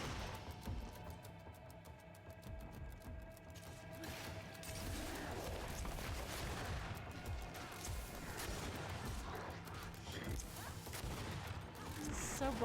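Video game gunfire crackles in rapid, faint bursts early on, then fades into a busier, muffled mix of clatter and game noise at low volume.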